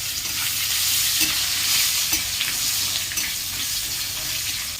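Onion and spices fry and get stirred in a pan for chicken curry, a close, steady sizzle with scraping stir strokes now and then, no talking.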